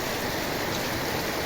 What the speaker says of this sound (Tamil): மழை நல்ல மழை பெய்யுறது.